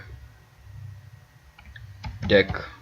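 Keys are pressed on a computer keyboard while setting up Virtual DJ 8 software: a low background hum, then a quick close burst of sharp clicking key presses near the end.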